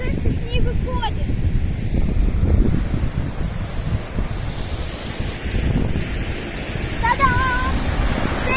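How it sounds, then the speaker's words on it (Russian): A river waterfall near the Peterhof fountains gives a steady, loud rush of falling water, mixed with buffeting wind on the microphone. "Целый водопад!"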